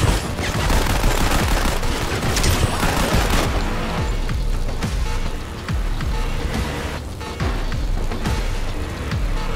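Continuous rapid gunfire from a video game firefight at a server room breach, dense bursts and loud overlapping shots with engine-like rumble beneath, steady and close throughout.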